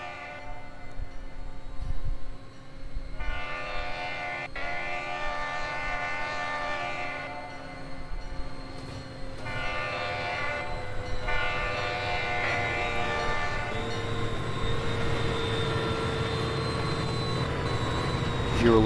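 A video game train rumbles past with a long, loud horn sounding in several blasts, the rolling clatter of cars continuing steadily afterward.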